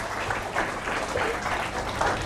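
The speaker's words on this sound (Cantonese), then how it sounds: "俾啲掌聲佢先" Applause from a church gospel-meeting audience in Tuen Mun, a steady dense patter of clapping holding at an even, moderate level for about two seconds, with faint voices mixed underneath.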